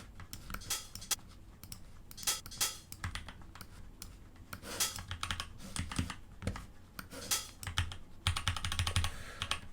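Computer keyboard keys clicking in quick bursts while entering shortcuts for Ableton Live during house music production, close-up and fairly loud, with a denser run of rapid taps near the end.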